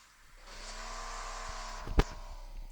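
Small, weak car engine in a taxi-driving video game, a steady thin drone holding for a couple of seconds with a brief sharp knock near the end.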